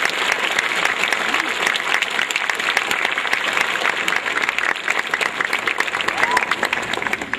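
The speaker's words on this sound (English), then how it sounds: "would you please give a round of applause and thank these individuals" An audience at a middle school Blue Ribbon ceremony claps steadily, a crisp, continuous crowd applause at moderate level with individual hand claps standing out, sustained throughout.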